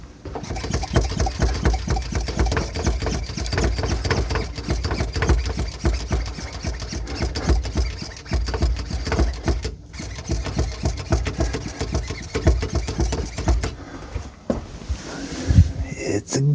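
A sink soap dispenser pump being primed gives a rapid, steady mechanical buzzing and chattering that runs almost without a break, with a brief dropout near the end.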